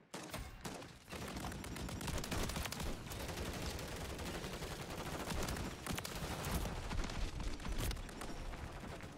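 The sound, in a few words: gunfire in video game Call of Duty MW3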